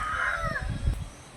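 A rooster crows nearby in one sustained, wavering call that fades out within about a second, over some low background rumble.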